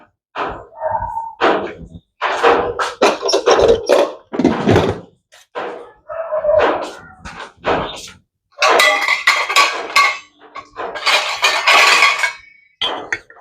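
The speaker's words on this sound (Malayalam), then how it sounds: "അടപ്പ് തപ്പിപ്പോയതാ" A metal pot lid slips and clatters in a home kitchen where mushrooms are being cooked, a run of loud clanks and rattling knocks in irregular bursts, close and without speech.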